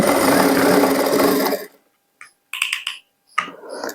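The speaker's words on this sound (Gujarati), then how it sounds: "હવે આપણે સીધી સિલાઈ લગાવી દઈએ." A sewing machine runs a straight stitch along a blouse seam for about a second and a half, a steady dense whir that stops abruptly, followed by a few light clicks and handling taps in near silence.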